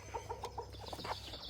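Chickens at feeding time cluck in quick, repeated short calls, fairly faint and a little distant, with a low steady background rumble.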